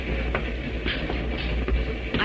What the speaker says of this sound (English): The wheels of the train must have been listening to what that woman said, because they repeated it.